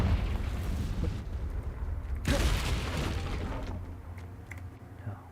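A fire-blast spell cast in the video game Hogwarts Legacy erupts with a sudden loud burst midway, its roar and crackle swelling over a rumbling game backdrop and then fading slowly.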